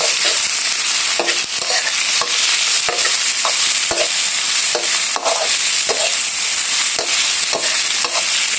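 Chili paste stir-fried in hot oil in a home kitchen: a steady, loud sizzle runs throughout, broken by repeated sharp scraping and clacking strokes of a utensil stirring the pan, with no talk.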